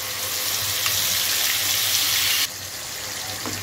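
Onion mixed with spices hitting half a cup of hot oil gives a loud, dense, continuous sizzle that drops suddenly to a gentler, steady frying hiss near the end.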